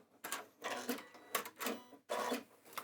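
A sewing machine struggling with its stitching chugs in three short bursts separated by brief pauses, each burst a quick, clattering run of needle strokes at moderate volume.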